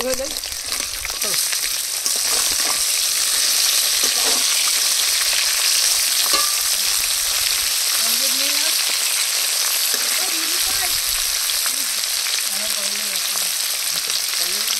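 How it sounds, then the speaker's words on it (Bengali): Fish frying in hot oil in a village kitchen, a loud, close, unbroken sizzle and crackle that runs the whole time, with faint background sounds and no speech. "মাছ ভাজা হয়ে গেছে"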